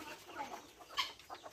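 Faint, brief clucking from a hen in a farm shed where native hens lay eggs, one sharper cluck standing out midway through a quiet background.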